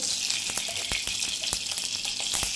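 Ghee sizzling in a pan while making mango semolina halwa: a steady, close, bright frying hiss with scattered crackling pops throughout, no talking.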